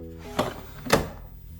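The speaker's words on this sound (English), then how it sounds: "For the drawer here, we have our main detergent in this section and our fabric softener in this section" The detergent drawer of a washing machine in a studio apartment slides and thunks twice in quick succession, close and fairly loud, with a short plastic rattle at each movement.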